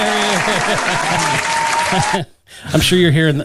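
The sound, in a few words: applause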